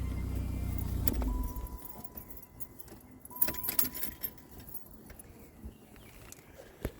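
The engine of a 1989 Chrysler LeBaron GT Turbo idles low and steady, then stops after about a second. Keys jangle and click in the ignition, followed by quiet cabin handling sounds.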